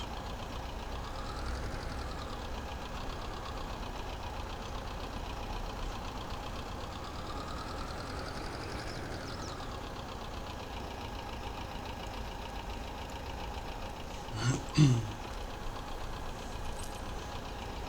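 Tractor engine in Farming Simulator 22 labouring under heavy load, a steady low drone with a faint knocking rumble throughout, fairly quiet, plus a brief louder clatter near the end.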